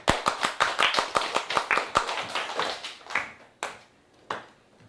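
A small class applauding a student, a quick run of close, rhythmic handclaps that slows and fades into a few last scattered claps.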